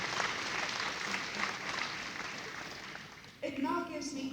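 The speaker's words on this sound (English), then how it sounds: "let's give a round of applause for West Bank" A crowd claps in a sustained round of applause at an automotive awards ceremony. The broad, steady clapping fills most of the moment, then cuts off abruptly as a voice begins speaking.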